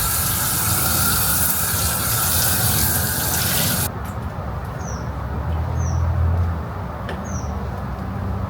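Water runs through a 100-foot garden hose, a steady loud rush at first that drops off abruptly and continues as a quieter flow, with faint birdsong chirping in the background.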